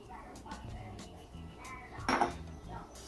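Slaw being mixed in a bowl after brown sugar and vinegar go in: soft scraping and clinking of a utensil against the dish, with one louder clatter, quiet overall beneath faint background voices.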